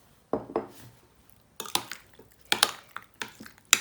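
Spoon scraping and clinking in a bowl as boiled pasta is mixed with other pasta salad ingredients, in short bursts with pauses, close and fairly sharp.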